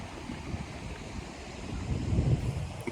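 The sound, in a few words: water stream and blowing wind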